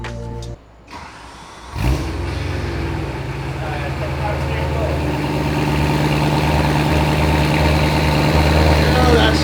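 A BMW E92 M3 with stock exhaust and an X-pipe fires up for the first time: a brief starter crank, then the engine catches with a loud bark and settles into a steady, rumbling idle that gradually builds in volume, close by.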